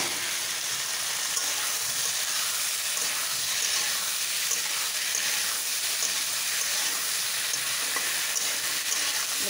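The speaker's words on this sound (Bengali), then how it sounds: "এই যে আলু টমেটোর এই যে পাতলা পাতলা কেটে নিয়েছি, দেখুন এগুলো আমি এবার এর মধ্যে দিয়ে ভাজবো" Thinly sliced potatoes and tomatoes fry in a pan with a steady, dense sizzle that runs unbroken and loud at close range, with no voices.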